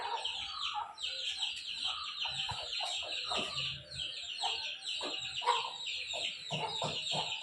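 Several growing chicks and hens cluck and call continuously, with a rooster-like crow partway through, fairly close and lively throughout.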